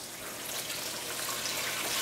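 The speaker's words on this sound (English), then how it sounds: "First, we add 6 cups of water." Water is poured into a container for paper making at home, about six cups in all. It gives a faint, continuous, even splashing rush with no talking.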